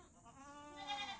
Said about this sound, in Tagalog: Ayan natin mga alagang kambing.